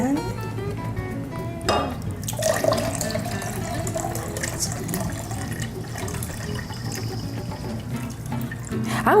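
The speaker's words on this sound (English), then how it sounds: "take 2 cups of water and again pour it into the pitcher" Water streams into a pitcher for homemade lilac lemonade, a steady close pouring wash with a faint clink and a few drips, while people talk quietly underneath.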